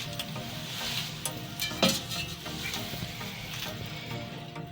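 Cooking oil heats and sizzles in a pan while bananas are prepared, a steady close frying hiss broken by a few scraping stirs and light utensil knocks against the pan.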